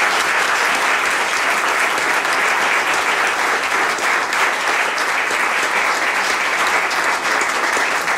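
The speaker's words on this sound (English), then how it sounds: "let's give all of our candidates a big round of applause for getting through this." A large audience applauds candidates at a mayoral forum, loud dense clapping that holds steady for several seconds without pause.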